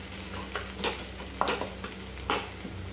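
Green chilli thecha with finely chopped coriander is stirred in a pan, giving soft scraping strokes at an irregular rhythm over a low steady sizzle, with no talking.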